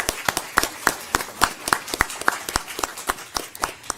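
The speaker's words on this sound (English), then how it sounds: "So let's give them a round of applause." A small audience claps for a state-champion high school lacrosse team at a county board meeting, producing scattered, uneven hand claps close by that carry on steadily without any voices.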